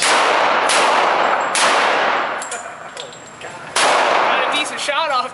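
A 500 S&W Magnum fired from a Thompson Center Encore fitted with a JP Howitzer muzzle brake: loud, sharp blasts outdoors, each followed by a ringing decay, with a voice heard briefly near the end.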